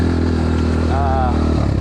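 An X-Pro 250 motorcycle engine droning steadily while riding, close and loud, with a brief wavering whine rising over the hum midway before it settles back.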